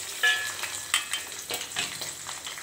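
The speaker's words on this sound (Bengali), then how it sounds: "ভেজে নিচ্ছি মশলাটাকে" A spice mix fries in a pan for a mushroom dish, a steady close crackle and hiss with a few louder spitting bursts, no voices.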